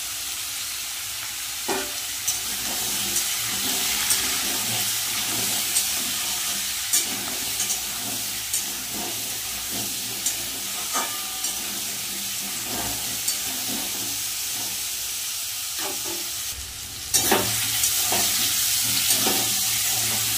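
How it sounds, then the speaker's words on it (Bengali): Potatoes and pumpkin fry in a pan with a continuous sizzle, while a spatula scrapes and taps at a regular stirring rhythm. The frying grows slightly louder near the end. "আলু আর কুমড়ো কিন্তু ভালোভাবে ভাজা হয়ে গেছে।"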